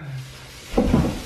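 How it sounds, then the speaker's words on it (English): A heavy door is pushed shut with full body weight, a dull low thud after a quiet moment, close by and brief. "This door is so heavy. I have to close with my whole body."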